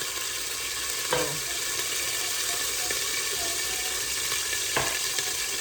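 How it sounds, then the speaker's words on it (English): Spoonfuls of sofrito hit a hot pan and fry with a dense, continuous sizzle and crackle, with a couple of sharper splattering pops standing out, close and without talk. "I'm gonna put 2 spoonfuls of the sofrito in, and this is gonna splatter, so stand back"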